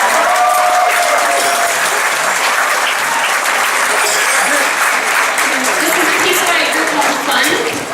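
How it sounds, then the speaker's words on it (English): A crowded high school auditorium bursts into sustained applause at a spring choir concert, with dense, steady clapping filling the hall for the full stretch and a few voices calling out over it. "Mr. Ward and Mr. Olson, give them a round of applause"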